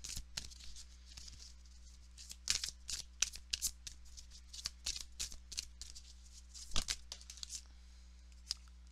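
Tarot cards being shuffled by hand, heard close up as a series of quick, crisp riffles and flicks in irregular bursts over a quiet background.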